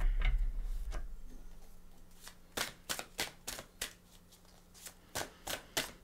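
Tarot cards being handled and drawn: a soft rustle at first, then a run of crisp, close card snaps and flicks in quick uneven clusters, with no talk.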